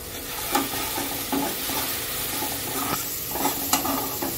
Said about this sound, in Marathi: हे पण परतवून घेऊया चांगलं।